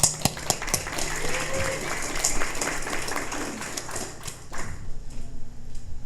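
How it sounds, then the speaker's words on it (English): Audience applause at the Startup Societies Summit in Portsmouth during a Liberland presentation: a steady, dense patter of many clapping hands with a few sharper claps, thinning and fading out over the last second or two. "A round of applause for Xenophon."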